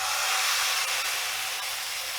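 Batter frying in an oil-brushed wok for a protein roll, a steady loud broadband sizzle and hiss holding constant throughout, close up with no voices.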